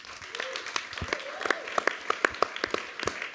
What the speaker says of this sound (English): Well, give a round of applause for that, please.